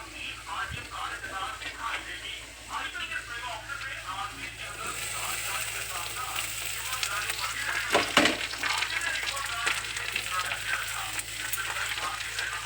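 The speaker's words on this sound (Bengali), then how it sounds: "তুলে দেওয়া হয়ে গেলে আমি আস্তে করে একটু নেড়ে নেব, তাহলে চাউমিনটা একটু ভালোভাবে ভাজা ভাজা হয়ে যাবে।" Chow mein tossed with potatoes in a hot pan, a continuous sizzle and frying hiss with scraping stir noises, growing louder toward the end, with a voice talking over it.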